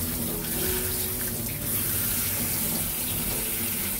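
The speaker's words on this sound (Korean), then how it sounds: "데쳐진 나물을 찬물에 헹구어 주세요." Cold tap water runs steadily into a sink while blanched rapeseed greens are rinsed under it, a continuous close splashing gush with no speech.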